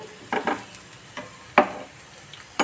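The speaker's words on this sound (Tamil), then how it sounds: "இப்போ நல்லா பரட்டி விட்டுருவோம்" Crispy baby corn chilli tossed and stirred in a frying pan, a few clattering knocks and scraping stirs over a faint steady sizzle, close and fairly loud in irregular bursts.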